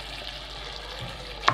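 Chicken thigh pieces marinated in lemon juice sizzle steadily in a hot frying pan over raised heat, a constant close crackle with a brief clatter near the end and no talking.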